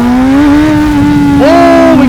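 A Honda CB1000 Hornet SP motorcycle accelerates hard, its loud, close engine note holding steady and then climbing sharply in pitch on a strong pull.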